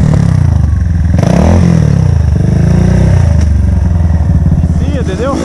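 A trail motorcycle engine revs and accelerates loudly and close by on an off-road trail, its throaty drone rising and falling under a man's ongoing speech.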